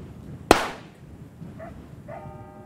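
A grenade goes off in the VR game Ghosts of Tabor, a single sharp broadband blast that decays over about half a second, followed by faint tonal game sounds.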